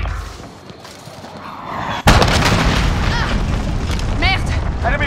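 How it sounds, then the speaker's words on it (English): A grenade blast in Call of Duty Modern Warfare lands abruptly as one loud, close boom after a quieter stretch, followed by dense rumbling battle noise, gunfire and chirping effects. "Throwing grenade!"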